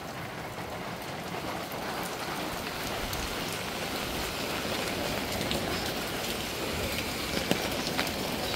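Heavy rain pours down during a typhoon storm in Manila, a dense, constant hiss of drops striking surfaces, steady and close with no talking.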